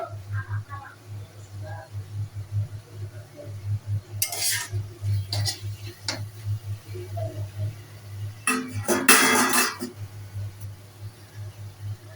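A utensil scrapes and clatters in a pan while potatoes and shrimp are stirred, with a few bursts of scraping over a low steady hum and faint background noise.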